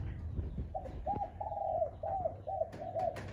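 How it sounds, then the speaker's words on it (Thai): A wild dove gives a clear series of soft, rounded coos, about six notes in steady rhythm. The notes sit at a moderate distance over faint background rumble, and no one talks. "จัวนี้เป็นสามกุกคู่อ่างนะครับสามกุกคู่อ่างปลาน้อยเสียงเพราะๆนะครับ"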